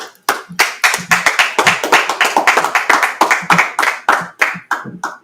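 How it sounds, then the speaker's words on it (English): Close, loud clapping from a small group at a religious class, sharp individual claps landing in a quick uneven rhythm for several seconds, nobody speaking. "let's go ahead and clap it up"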